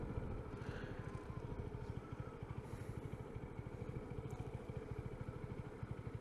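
A motorcycle engine running at low RPM with a fuel-mix fault and the engine light on, a rapid, even low-pitched putter that pulses steadily for several seconds, faint and alone with no talking.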